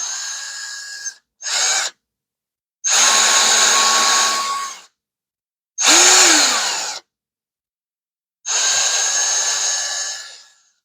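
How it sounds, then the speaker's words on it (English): A power drill enlarges holes in four or five separate bursts of a few seconds each, with brief silent pauses between them, close and loud. "I'm going to drill these out"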